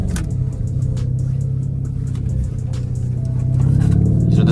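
Lamborghini Urus Performante or Porsche Cayenne Turbo GT launching off the line in a drag race, its engine note rising steadily and growing louder toward the end, with no talk over it.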